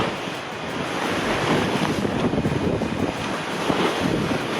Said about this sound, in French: La mer est en train de s'agiter.